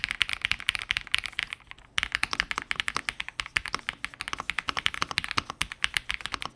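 Fast, continuous typing on a Redragon K708 budget mechanical keyboard, a close, crisp run of thocky clacks with a brief pause, with no one speaking.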